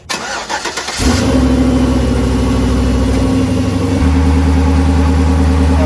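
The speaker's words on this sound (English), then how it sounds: "Now I'm gonna crank it up real quick." A vehicle engine cranks with a short starter whir, then catches and settles into a steady, loud idle that runs on to the end, with a slight shift in tone partway through.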